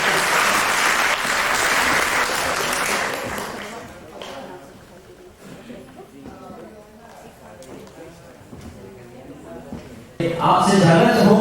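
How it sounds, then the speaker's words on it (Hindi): Theatre audience at a Hindi-language play applauding in a dense burst that fades into softer scattered clapping, then someone speaks and the clapping surges again at the end. "यदि आप एक ताली दीजिए"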